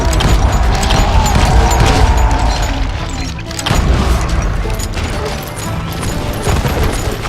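Heavy gunfire erupts in the Western shooter game Call of Juarez: Gunslinger, a loud, near-continuous barrage of booming shots and crashes with only brief dips in intensity.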